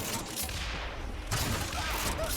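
RPG rocket launcher fire in Bioshock Infinite on 1999 Mode, a dense continuous wash of blasts and gunfire at steady loudness, with a sharper burst partway through and no voices.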